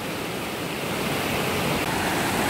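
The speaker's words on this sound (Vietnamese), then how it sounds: "Đoạn suối này là nước tung bọt trắng xóa" Rushing forest stream with white foaming water, a steady broadband roar of churning rapids heard up close and loud, with no voices over it.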